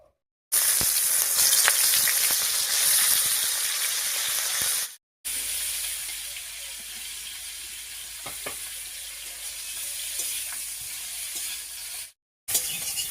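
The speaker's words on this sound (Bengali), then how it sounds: "তেল গরম হয়ে গেছে ফুলকপিটা দিয়ে দিচ্ছি" Cauliflower hits hot mustard oil in a wok and sizzles loudly and steadily, with brief breaks before the frying resumes at a slightly lower level.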